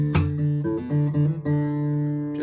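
Guitar plays a short hammer-on riff from a song, clear plucked notes sliding between pitches alone, with no voices.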